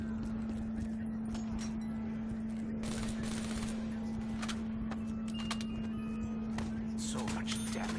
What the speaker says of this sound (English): So much damage from such a lightweight weapon.